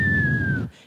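A voice imitates a falling artillery shell with a single steady whistle that slowly drops in pitch and cuts off after under a second.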